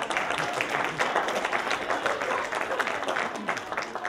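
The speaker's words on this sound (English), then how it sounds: "Give my helpers a big round of applause." An audience claps at a Christian magicians' fellowship show program, a steady, dense wash of applause that holds evenly throughout without pause.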